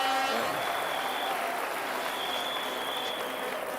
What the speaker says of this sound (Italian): Un applauso per Tony Esposito.